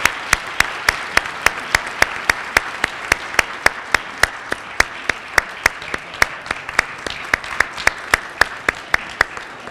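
Audience applause at an MLK Day of Service awards event, heard as a steady run of evenly spaced sharp claps that carries on for the whole stretch, fairly close and loud, with no one talking.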